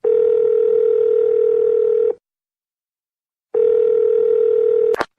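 A telephone dial tone hums steadily in two long bursts separated by a silent pause, ending in a sharp click.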